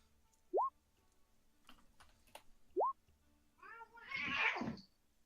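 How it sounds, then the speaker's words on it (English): Cats meow twice, each a short rising cry spaced a couple of seconds apart, with faint clicks between them, then a longer, harsher yowl toward the end. "that was cats"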